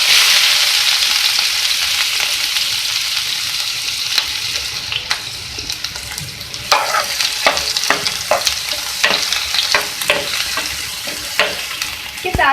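Onions frying in mustard oil, a bright steady sizzle that fades slightly as repeated sharp scraping and clinking stirring strokes come in closer, with no talk.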